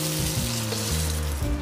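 Beef short-rib dumplings pan-frying in oil on one side until crisp, a steady close sizzle running through the short moment with low tonal sounds beneath it.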